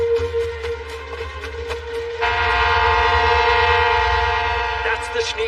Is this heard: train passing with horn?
yes